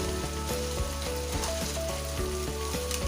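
Whole spices such as cloves, cumin, black pepper and bay leaf sizzling as they drop into hot oil while cooking aloo keema, a steady loud frying hiss with faint rhythmic stirring taps underneath.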